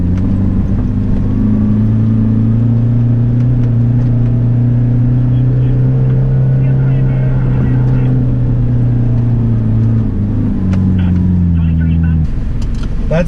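A 4WD with tyres let right down climbs a soft sand dune in the Simpson Desert, its engine a loud steady drone with a shift in pitch near the end, heard under someone talking.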